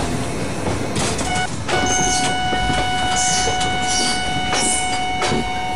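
A WAP-5 electric locomotive of Indian Railways in the Open Rails train simulator game rumbles along with a steady electric hum, rhythmic wheel clicks and several brief bursts of horn or squeal layered over a loud, continuous rail roar.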